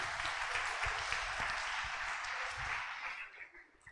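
Church congregation applause, a dense wash of many hands clapping at once, fairly loud and near, then thinning out and fading toward the end.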